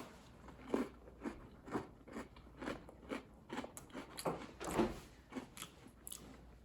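Repeated crisp bites and crunchy chewing on an Oreo cookie with a two-tone filling, close and clear, with steady bursts of crunching and no talking.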